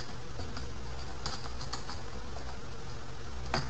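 Quick, light clicks of typing on a computer keyboard, close and fairly faint against a steady background hum, with a few slightly louder keystrokes.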